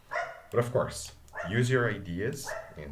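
Dogs bark in short bursts in the background, partly masked by someone talking steadily over them at close range.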